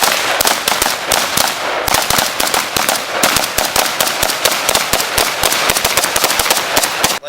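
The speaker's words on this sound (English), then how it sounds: "We're going to be shooting it with 9mm 45 ACP, 545 by 39, 556 ammo, and we're going to see how well it holds up." Rapid gunfire from 9mm, .45 ACP, 5.45x39 and 5.56 rounds fired at an outdoor range to test a cheap mount, a loud, sustained string of sharp cracks in quick succession, close and continuous for several seconds.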